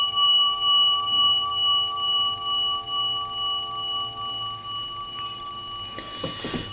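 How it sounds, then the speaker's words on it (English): A steady dial tone hums through the handset of a vintage Kellogg wall telephone, continuous and even, ending with a few faint clicks and rustles. "Dial tone."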